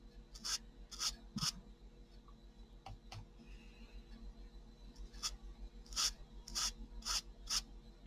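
A dry brush scrubs across watercolor paper in short, quiet rasping strokes, several bursts spaced irregularly with brief pauses between them, close up and faint, with no voices.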